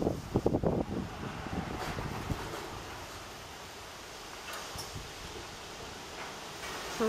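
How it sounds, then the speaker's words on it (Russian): Strong gusty wind blows across a garden plot in spring with changeable weather, a steady rushing roar outdoors with some rustling and a few handling knocks near the start. "Смотрите, какой прям ветер жуткий."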